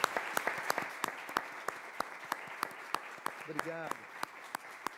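Steady applause from a studio audience fills the clip, with a brief spoken thanks partway through.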